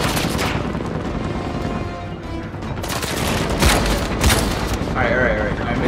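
Video game gunfire in Uncharted 4 crackles in rapid bursts and booms under the busy game soundtrack, loud and continuous, with a person talking over parts of it.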